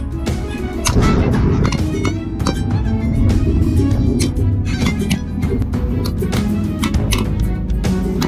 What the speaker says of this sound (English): In a matter of seconds, gunshots echoed rapidly